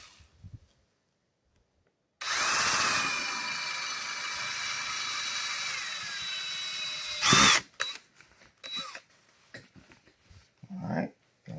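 A power drill bores through a suitcase during a luggage foot repair, a steady whining run of about five seconds after a quiet start, then brief bursts and handling noises.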